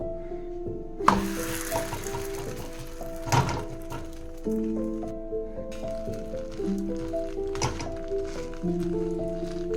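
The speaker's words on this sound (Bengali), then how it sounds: "এবার আমি পরোটাটা এর উপরে রেখে সেঁকে নেব" A paratha for a homemade egg roll is laid onto a hot tawa to roast, giving a few soft close thunks and a faint hiss of heat beneath a steady tonal background hum.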